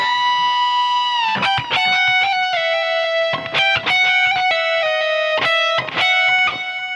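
A distorted electric guitar plays two joined phrases of a song: loud, sustained lead notes with bends and clear note-to-note attacks, played alone without talk.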